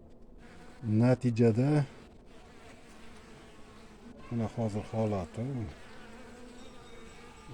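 A weak honeybee colony buzzes around a hive frame in a steady, droning hum. It swells loudly at times and sits under a voice speaking nearby.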